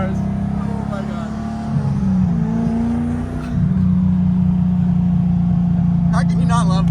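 Inside a Toyota FRS fitted with an LS V8, the engine drones loud and steady under load, pitch climbing, briefly dipping at a gear change and then holding high, while occupants talk over it.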